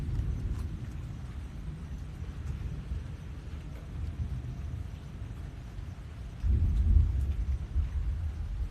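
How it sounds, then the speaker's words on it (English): A thunderstorm cell rolling in from the Gulf of Mexico: low, continuous rumbling thunder under steady rain, swelling into a louder, closer roll near the end. "Looks like people want to watch some Storm ASMR"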